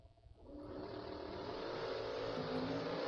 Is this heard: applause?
no